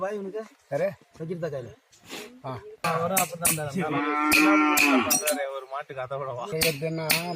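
Cattle at a bullock-shoeing session let out long, drawn-out moos, heard close and mixed with people talking and a few metallic clinks.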